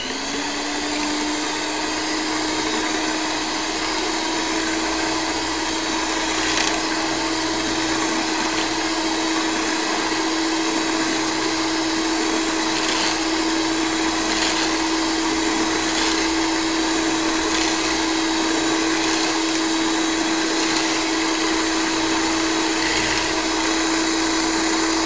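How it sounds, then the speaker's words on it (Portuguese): Electric stand mixer whipping six egg whites to stiff peaks for a chilled coconut cake, a steady loud motor whine with a constant high hum that runs unbroken and alone throughout. "vai colocar as seis claras e vai bater na batedeira até ficar em ponto de neve"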